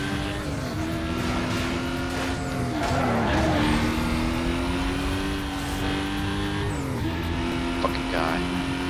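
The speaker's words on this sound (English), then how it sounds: "Is that a fucking Lamborghini Murcielago?" A Lamborghini Murcielago in Need for Speed Most Wanted roars close by, its engine droning steadily with shifting pitch and brief tire squeals, under someone talking.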